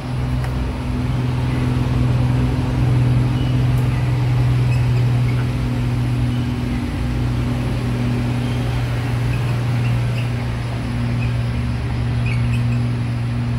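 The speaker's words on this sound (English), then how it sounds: "Let's just let the truck go past." A truck passing on a nearby road gives a loud, steady engine rumble with a continuous low drone that holds for the whole stretch, without any speech.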